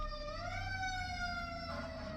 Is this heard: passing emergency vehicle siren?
yes